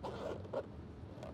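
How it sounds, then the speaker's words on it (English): A zipper on a small bag made for a Tern HSD folding bike is opened close up and quietly, as three short, raspy pulls. "So you just open the zipper here"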